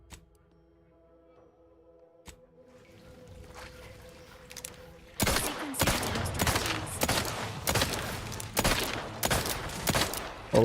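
Gunfire in the Outer Worlds 2 video game: after a quiet, low ambient stretch, loud rapid bursts of shots erupt and continue in dense, repeated volleys.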